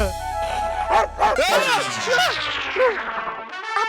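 A dog barks in a Hindi comedy scene, a few loud, close, pitched barks and yips spread across the moment, ringing over a musical tone bed.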